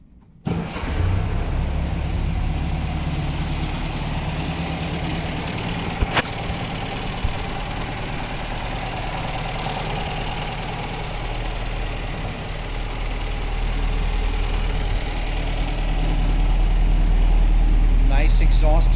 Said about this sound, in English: Nice exhaust tune.